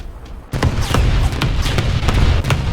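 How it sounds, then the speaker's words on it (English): Artillery shells in War Thunder land on the player's position, a sudden deep impact followed by a sustained rumble of repeated heavy thuds and crackling bursts, loud and close. "Lots of artillery on my position right now."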